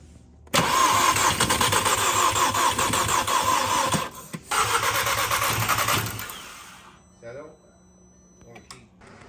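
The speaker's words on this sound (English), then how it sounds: "the car is like just cranking. It sounds like it wants to start, but it's not starting" A VW MK6 GTI engine cranks without starting in two long loud bursts of the starter motor's rapid rhythmic churning, separated by a short pause, then falls quiet to faint background sounds.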